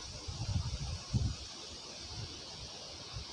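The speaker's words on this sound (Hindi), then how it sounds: "और तेज़ हवा चल रही है।" Strong wind gusting beside a canal on a dirt path near trees, buffeting the microphone in low rumbling bursts with leaves rustling, loudest early then easing to a steady breezy hiss.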